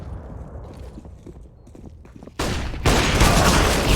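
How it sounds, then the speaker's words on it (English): Pistol fire in a competitive online shooter match comes as a burst of sharp, close reports. It begins with a run of scattered footstep-like clicks, then turns into loud, dense gunfire near the end. "MDS might be making it happen with this pistol"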